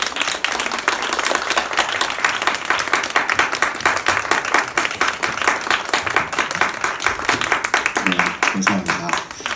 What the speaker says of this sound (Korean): 우리 사랑하는 목사님 나오실 때까지 좀 큰 박수로 환영했으면 좋겠습니다.